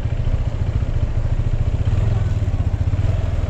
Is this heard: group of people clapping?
no